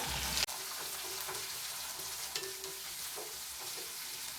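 Onion, ginger, green chili and carrot sauté in a pan for sambar, giving a steady close sizzle and frying hiss with a sharp stirring clank near the start and faint scraping throughout.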